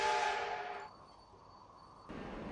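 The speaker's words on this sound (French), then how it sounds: "Il y a ce klaxon là, l'aérotrain." Aerotrain horn in the Roblox game Terminal Railways, a fairly quiet, steady tonal blast that holds for about two seconds with a brief shift in pitch partway through, heard alone.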